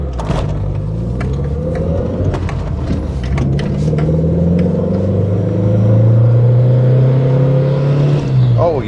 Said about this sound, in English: You can almost hear the individual beats as the engine starts sucking hard for oxygen.